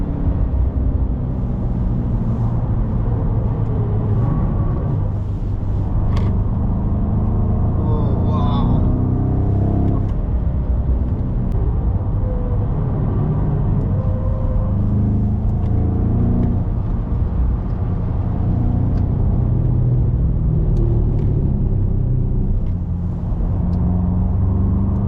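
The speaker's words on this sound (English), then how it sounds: "You gotta love the V8 burble." A 7th generation BMW M5 V8 burbles and rumbles steadily from the cabin while driving, a deep continuous low drone with slight swells throughout.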